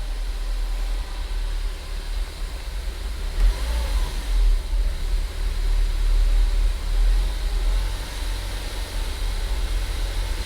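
A restored Ford Focus ST engine running rough with the hood open, a steady low rumble with small surges in level throughout, heard near and alone with no talk.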